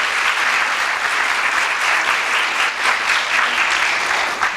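A school gala crowd applauds in appreciation of staff, producing dense, continuous clapping that stays loud and even for several seconds.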